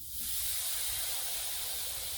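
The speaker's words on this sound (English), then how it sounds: "I leave it on there till basically it almost stops steaming and you can't hear like the sizzling anymore" Steam hissing from clamped synthetic dreadlocks under a hot tool: a close, constant broadband hiss that swells in quickly at the start and then holds steady with no speech.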